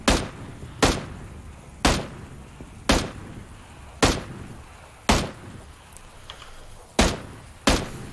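Eight single gunshots ring out in PlayerUnknown's Battlegrounds, spaced about a second apart in a steady rhythm, each a loud, sharp crack with a short decaying tail and no talk in between.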